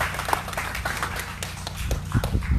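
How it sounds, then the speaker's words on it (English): An audience at a learning-centre opening in Cedros claps through a brief round of applause, a dense steady patter of many hands at moderate distance, with faint voices underneath. "Put our hands together and give him a happy round of applause."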